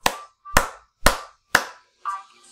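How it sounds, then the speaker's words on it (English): Five sharp single hand claps spaced evenly about half a second apart, close and crisp, each with a short ringing tail, alone with no talk over them. "I can clap my hands."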